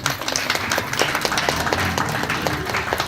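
An audience claps at a radio station's first annual day celebration during a certificate presentation, a moderately loud, uneven patter of many hands with distinct individual claps poking through.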